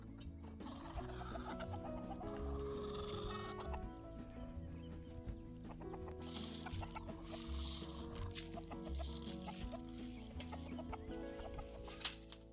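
Farm chickens, including a hen with chicks, cluck in a steady, scattered chatter that goes on throughout, fairly close but quiet, with no voices over it.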